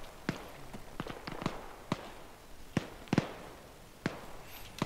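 Gunfire in the military shooter ArmA 3: scattered sharp cracks of varying loudness, some near and some distant, firing irregularly with short gaps and occasional quick doubles.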